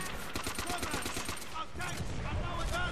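Gunfire in Call of Duty: World at War, rapid machine-gun bursts and scattered shots in quick succession, loud throughout with some game voices mixed in.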